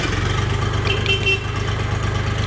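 A Kentavr 244SX tractor engine runs with a steady low diesel rumble and a fine, even pulsing throb, close and continuous, with no talk over it.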